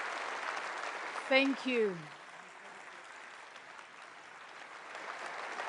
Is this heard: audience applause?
yes